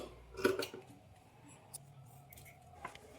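Scissors trimming the extra fabric edges of a blouse neck: a short, close burst of snipping near the start, followed by quiet fabric rustles and a few faint ticks.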